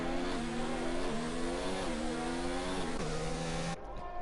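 A McLaren race car engine in a sim racing game screams loud and steady, the pitch climbing through each gear and dropping at the upshifts, then easing off as the throttle lifts at the end.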